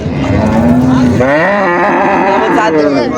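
Cattle at a busy village cattle market, one cow giving a loud, drawn-out moo up close that rises and wavers, with a murmur of people and market noise underneath.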